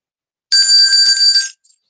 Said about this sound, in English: I'm just gonna do a quick test of the bell. It's on my phone now.